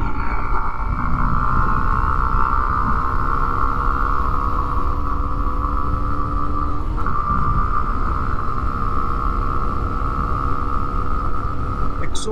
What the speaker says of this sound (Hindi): अभी गियर डाउन करके वापस भगाते हैं भाई।